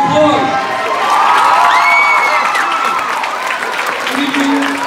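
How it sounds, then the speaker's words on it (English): Audience applause and cheering with children's shouts and whoops at a school media show, loud and continuous, with voices calling out over the clapping. "Give them a round of applause."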